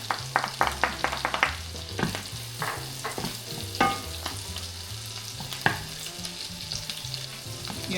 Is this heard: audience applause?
no